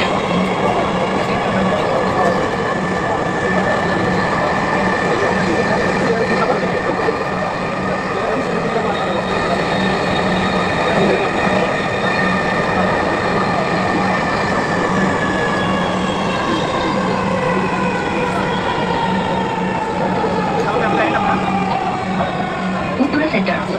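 Dhaka metro rail train running toward Uttara Center: a steady, loud onboard rumble with rising and falling wheel and motor whine and a persistent low hum throughout, no pauses.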